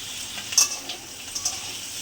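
Chopped garlic, onion and green chilli fry in a pan for vegetable dal, giving a steady close sizzle with a couple of brief stirring clinks.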